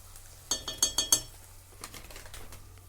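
A spoon clinks against a metal pot while a cook stirs chili-powdered curry, a quick cluster of five sharp metallic taps followed by softer, scattered scraping clinks, close and clear.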